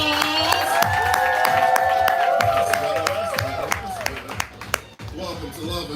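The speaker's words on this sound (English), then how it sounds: "Yo, give yourselves a round of applause." Open mic audience at a live poetry event clapping and cheering loudly, with whoops and shouts over dense applause that thins out toward the end.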